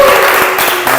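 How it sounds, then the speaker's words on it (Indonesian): A short, loud burst of classroom clapping, with many hands beating together in a dense, steady patter that lasts about a second. "Ya, oke, tepuk tangan."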